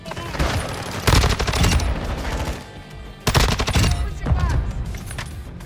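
Bursts of gunfire from the Call of Duty video game, featuring the MX Guardian shotgun, come in loud, dense volleys with short gaps and layered battle effects.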